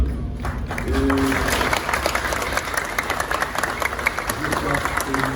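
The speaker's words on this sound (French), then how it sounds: "vraiment pour un tonnerre d'applaudissements" Thunderous standing applause from an audience at a Haitian ceremony with fire-brigade officials, a dense, sustained roar of clapping with a few voices and whoops mixed in.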